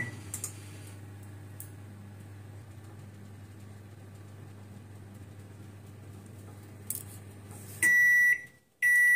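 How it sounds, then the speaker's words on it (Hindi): Microwave oven cooking a pizza base, a steady low electrical hum running for several seconds with a few small clicks, then ending in loud high beeps. "अब हम इसे वापस माइक्रोवेव में रख देंगे और माइक्रोवेव को स्टार्ट कर देंगे।"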